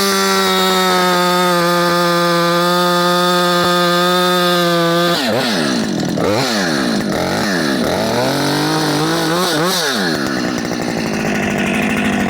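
A Jonsered 2258 chainsaw with a 28-inch bar and .325 chain idles steadily, then revs hard into a log to cut firewood, its pitch dropping and rising through several bogging strokes, loud and close with no talk.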